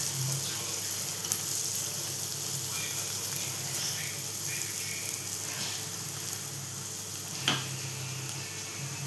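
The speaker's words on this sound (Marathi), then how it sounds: "इथे आता आपण कांदा परतवून घेतला" Onion sautéing in a pan for bottle gourd curry, a steady soft sizzle with faint ticks and one brief clink, no talking.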